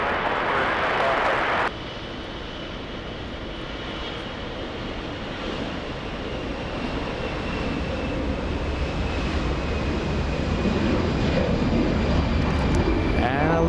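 An Allegiant airliner departs Los Angeles International Airport, its engine roar a steady broadband rumble that holds strong and constant throughout, with a faint high whine running through it.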